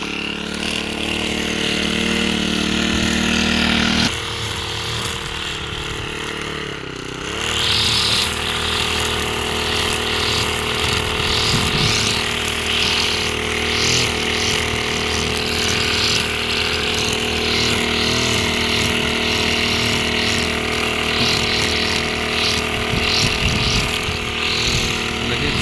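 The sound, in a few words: string trimmer cutting grass in a garden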